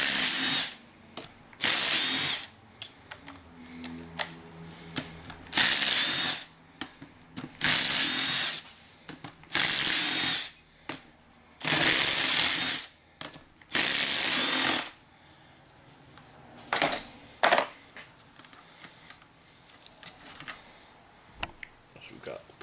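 Power tool backing bolts out of a Gamma 10P30C compressor body, heard as a series of loud, close whirring bursts of a few seconds each with short pauses, plus clicks and handling sounds between them.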